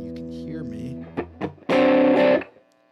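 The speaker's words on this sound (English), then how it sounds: "So when I play, you're going to hear a very different character to the distortion." Electric guitar played through a newly released VOX distortion pedal, with a few short plucked notes followed by one loud, fuzzy, sustained chord that rings for under a second before cutting off. A voice is briefly present.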